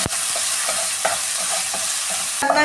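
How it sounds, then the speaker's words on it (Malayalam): Ground green chilli, ginger and garlic fry in a pan under a loud, dense sizzle, with quick stirring strokes repeating in a steady rhythm. A clattering knock comes at the start and a sharper burst near the end. "മിക്സിയിൽ അരച്ച് വയ്ക്കുന്ന പച്ചമുളക് ഇഞ്ചിയും വെളുത്തുള്ളി അതും കൂടെ ചേർത്ത് കൊടുക്കാൻ ഈ പച്ച ഫ്ലേവർ മാറാൻ നന്നായിട്ട് ഇതൊന്ന് ചൂടാക്കിയെടുക്കാം ഇതിലിട്ട്"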